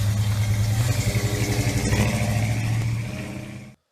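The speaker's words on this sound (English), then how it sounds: "That is a 1975 Chevy K10" A 1975 Chevy K10 truck engine revving, a loud pulsing V8 burble that rises and surges in rapid firing beats before cutting off abruptly, heard alone.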